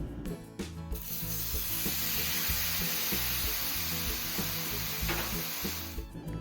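Seasoned shrimp sizzle on a hot Blackstone flat-top griddle, a continuous dense frying hiss close by, with a few scraping and rubbing sounds at the start and end and no talking.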